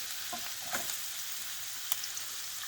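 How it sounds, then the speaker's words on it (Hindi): Chopped onions sautéing in a pan for paneer methi malai, a steady soft sizzle and crackle with a couple of faint stirring knocks, quiet and close, with no talking. "Now we add the onions."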